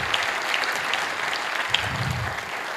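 Audience applause at a public lecture event, a dense steady wash of many hands clapping throughout, fairly loud and continuous with no talk over it.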